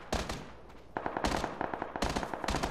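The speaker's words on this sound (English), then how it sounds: "No, they shooting up here." Bursts of automatic gunfire in PUBG, three loud rapid volleys of crackling shots separated by brief gaps, fairly close and with no talk over them.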